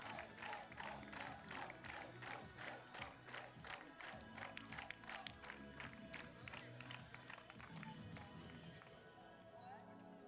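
A crowd cheers and claps after a blind football (cécifoot) match between St. Pauli and Mälarhöjden at a 2023 French tournament, sustained rhythmic applause with shouts over roughly ten seconds, an announcer's voice running through it.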